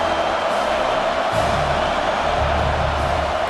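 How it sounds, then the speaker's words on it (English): A college football stadium crowd roars for the home defense on third down, a dense, continuous wall of cheering that swells and holds loud throughout without letting up. "Decibels rising as the crowd gets behind this defense on third down"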